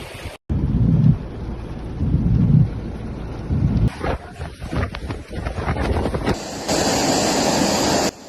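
Stormy weather in Sicily during severe flooding and tornadoes, with loud bursts of wind buffeting the microphone, heavy rain hiss and rumbling gusts that rise and drop abruptly.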